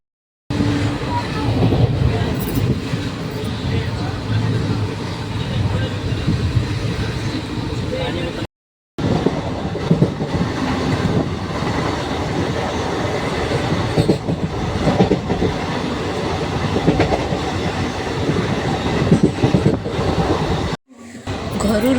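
A train rolls along the tracks from Khordha Road Junction, heard from inside a carriage as a continuous loud rattling clatter with wheel noise and a brief break partway through.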